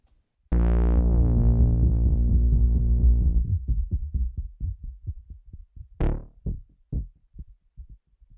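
A sustained synth tone cuts off into a rhythmic train of echoing pulses from an Erica Synths Zen Delay plugin with ramp waveform modulation, repeating and fading, some repeats swelling brighter than others.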